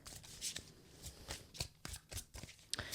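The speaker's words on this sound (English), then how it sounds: "Now, I'm going to shuffle the cards" A deck of tarot cards is shuffled by hand in quick, crisp riffling bursts with short gaps between them, close and fairly quiet, with no talking.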